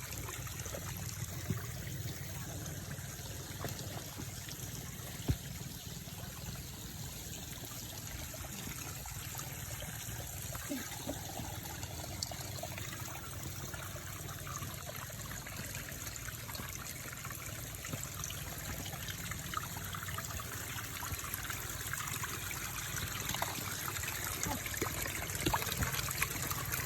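Water trickles steadily along a mountain stream on a peak hike in Banaybanay, Davao Oriental, a soft, continuous burble under a constant high hiss of insects, with faint voices now and then.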